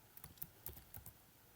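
Faint, quick keystrokes on a computer keyboard, about seven light clicks in an irregular burst with no speech.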